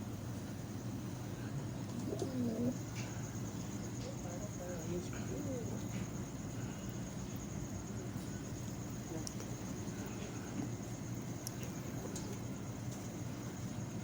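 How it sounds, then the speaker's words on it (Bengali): A pigeon coos softly and intermittently against a steady, fairly loud background hum, the calls faint and low rather than up close. "কত সুন্দর পায়রাটা"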